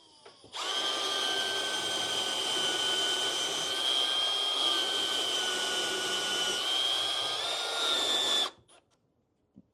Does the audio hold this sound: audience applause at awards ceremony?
no